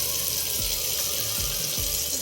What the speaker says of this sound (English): And I'm going to add a little more hot water